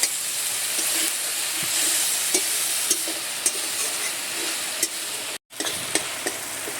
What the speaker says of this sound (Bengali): সামান্য একটু জল দিয়ে কষে নেব।